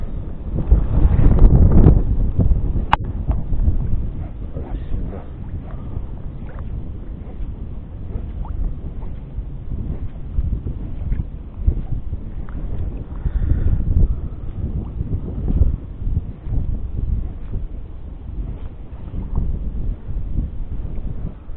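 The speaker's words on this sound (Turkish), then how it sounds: "Arkadaşlar hava çok rüzgarlı." Steady, blustery wind roars across the microphone for the whole stretch, low and rumbling with gusts, no voices present, while fishing for sea bass.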